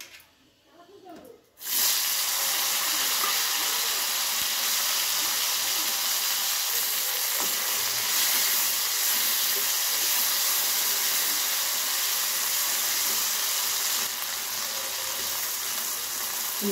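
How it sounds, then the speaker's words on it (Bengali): Okra sizzles in the hot oil left over from frying morola fish in a home kitchen. A loud, steady hiss sets in abruptly after a brief quieter opening and holds unbroken to the end. "ভেন্ডিগুলো ভেজে নেব।"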